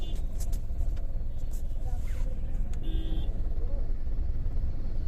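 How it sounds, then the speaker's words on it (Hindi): Heavy road traffic fills a street in Bulandshahr on an election day: a constant, loud engine rumble with a few short horn toots, and voices murmuring in the background. "चारों तरफ ट्रैफिक ही ट्रैफिक।"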